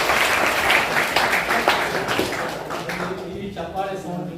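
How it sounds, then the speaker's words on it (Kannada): School students clap in a room, moderately loud applause with sharp individual claps that thins out, followed by a voice speaking. "ಈ ಚಪ್ಪಾಳೆ ಸೌಂಡ್ ಇನ್ನೂ ಜೋರಾಗುತ್ತೆ"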